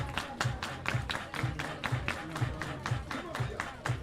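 Rhythmic crowd hand clapping at a baseball game rings out in a steady pulse about twice per second, carrying across the ballpark under faint ambient chatter.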